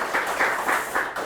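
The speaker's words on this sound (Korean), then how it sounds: "영상 한번 보셨으니까 박수 한번 치겠습니다." A business briefing audience for an AI dental care platform agency recruitment applauds together, a dense, steady clapping that pulses slightly across a second with no talk over it.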